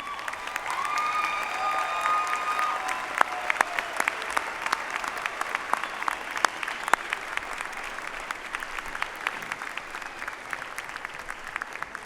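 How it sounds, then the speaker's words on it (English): A graduation ceremony audience applauds for master's degree candidates, a dense sustained clapping of a large crowd in a hall that stays even and lively for the full stretch. "you can go ahead and clap"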